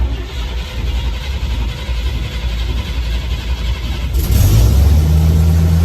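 A decades-old Fire'y 49 fire truck with only 6,777 miles, started via a manual floor contactor, cranks against a steady background rumble, then catches and settles into a loud, deep idle that runs on to the end.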